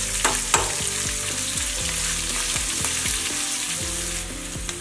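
Dried red chili and a pinch of asafoetida crackle and sizzle steadily in hot oil in a pan for lemon rice, with sharp popping bursts and light stirring scrapes throughout, no voices.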